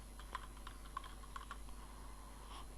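Keys clack on a computer keyboard as a company name is typed, a quiet, irregular patter of light taps over a low steady hum.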